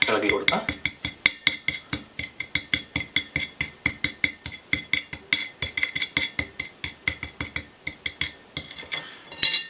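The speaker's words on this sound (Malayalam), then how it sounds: "ഒന്ന് ചെറുതായിട്ടൊന്ന് ഇളക്കി കൊടുക്കാം." A spoon stirs baking soda and lemon juice in a bowl, making a brisk, regular series of bright clinks against the rim that are close and continuous for about ten seconds.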